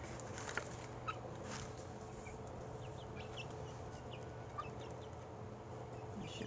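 Chickens cluck softly at a distance as scattered faint calls over a steady low background hum.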